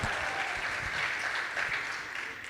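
A live audience applauds steadily, a dense, fairly close wash of clapping that holds for a couple of seconds and eases slightly at the end.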